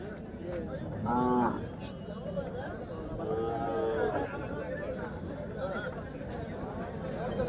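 Cattle low at a native cattle market in Kundarapalli, with two clear drawn-out moos rising above a constant murmur of crowd chatter and nearby talking.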